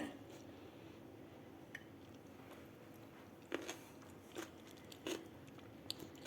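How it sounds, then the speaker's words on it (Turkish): Crunchy purple cabbage pickle is bitten and chewed up close, giving a few sharp, crisp crunches and softer wet chewing sounds, quiet and spaced out over a low background. "Mor lahanayı deniyorum."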